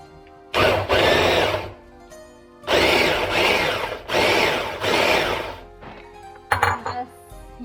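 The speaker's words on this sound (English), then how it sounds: "Just use the food processor and make it like that." A food processor chopping onion, carrot and celery whirs in loud bursts of a second or so, several pulses separated by pauses, with a final short rattle.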